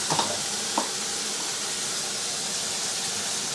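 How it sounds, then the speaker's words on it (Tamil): Mint leaves sautéing in a hot pan, a continuous dense sizzle with a couple of soft stirring scrapes near the start. "புதினா வதக்கிட்டு இருக்கிறேன்"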